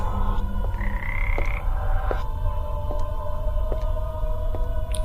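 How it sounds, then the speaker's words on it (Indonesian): Frogs croak from a small garden pond at night, a steady chorus of repeated calls close by over a constant low rumble, with no voices. "Suara katak menggema di kandingan malam itu."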